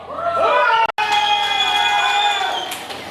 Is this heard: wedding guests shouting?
yes